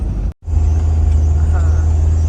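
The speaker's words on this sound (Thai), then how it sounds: "ฟังเสียงเครื่องยนต์นะ เราจะใช้นี่เกียร์หนึ่งเลย มันจะลงชันมากอ่ะ" Van engine in first gear holding back on a steep downhill: a steady, loud low droning hum that runs throughout after a brief dropout near the start.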